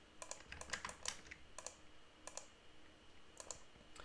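A computer mouse clicks while curve points are added in MODO software. Sharp, quiet clicks arrive singly and in quick clusters, close to the mic, with nothing else heard.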